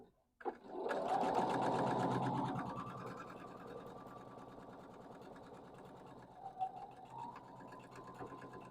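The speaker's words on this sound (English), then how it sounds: "I'm going to sew on the other side." A sewing machine runs while sewing a quilt block, starting with a loud whirring burst of stitching that settles into a softer, steady mechanical hum, with a few small clicks near the end; no speech.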